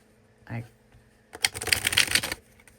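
Linen-finish tarot cards shuffled by hand, a brisk riffle of dense papery flutter lasting about a second, preceded by a short soft thump, close and moderately loud.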